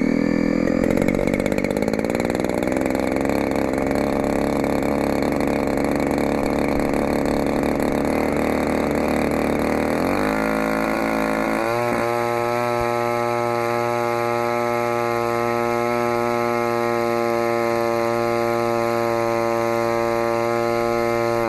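A DLE-35RA gas engine runs loud and steady during break-in, its buzzing drone shifting pitch around ten seconds as the throttle changes, then settling into an even, higher-pitched roar with no talk over it.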